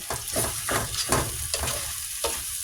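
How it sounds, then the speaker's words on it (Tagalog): Bitter gourd sautéed in a pan, with tomato, sizzles continuously while a spatula scrapes through it in regular stirring strokes, close and moderately quiet with no speech. "Igisa muna natin."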